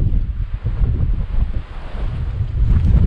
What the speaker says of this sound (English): Well, it must always be windy here because there's a wind farm over there.